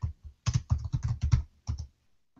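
Quick bursts of keystrokes on a computer keyboard while entering text during a cloud coding session, a run of close, uneven clicks followed by a pause and a couple of final taps, with no talking.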